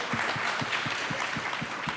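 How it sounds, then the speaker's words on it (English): Audience at a zoning and livability talk in Santa Fe applauds for planning staff, a dense patter of many hands clapping at moderate volume, continuous and even throughout. "so clap for them"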